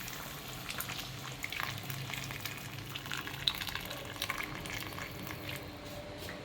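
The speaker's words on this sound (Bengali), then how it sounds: "এবার মাংসে গরম জলটা দিয়ে দিই।" Hot water poured into chicken curry cooking in a pan, a steady bubbling sizzle with scattered light pops and clicks, fairly quiet and with no voices.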